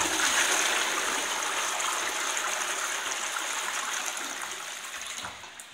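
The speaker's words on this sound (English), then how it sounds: "Not a bad flush." A Roca Laura toilet in a village hall flushes with a loud rush of water that gradually fades to a trickle over several seconds.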